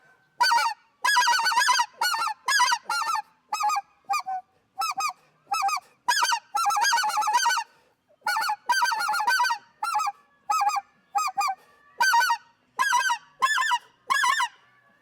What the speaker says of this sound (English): I'll blow it in a standard yodel.